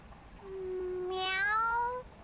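A cartoonish cat's meow from the video game Bravely Second, a single drawn-out mew that rises and then bends downward, close and clear against a quiet background.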